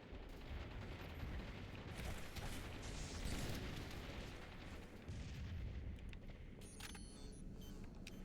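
Grenade blasts and gunfire in a Halo multiplayer match, a dense rumbling wash of booms and crackling shots layered throughout, loud and continuous with no clear pause.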